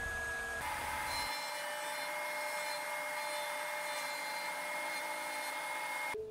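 Router fitted with a 1/8 inch roundover bit shaping wooden crib slats, a high steady whine held loud and unbroken for several seconds before cutting off at the end.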